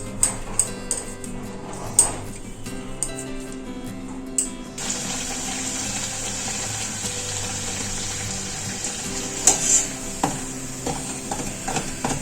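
Luchi, a puffy Bengali flatbread, deep-frying in hot oil: faint clinks and taps at first, then a continuous bright hiss of bubbling oil takes over, with occasional sharper knocks of a utensil against the pan.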